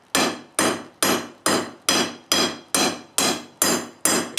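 A hammer forging the bevels on a blade made from a leaf spring. Nine loud, evenly spaced metallic blows, each ringing briefly before the next, close up and alone with no speech.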